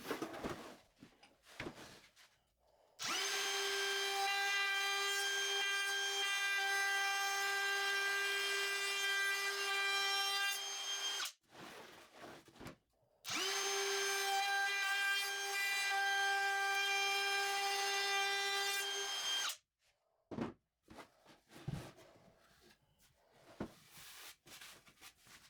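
A router with a round-over bit cuts the edges of a 2x4 table in two long, loud, steady whining passes of about eight and six seconds, with short handling knocks and quiet gaps between them.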